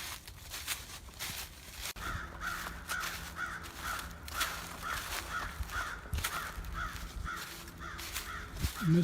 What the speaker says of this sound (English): Mr. Crow is announcing our presence there.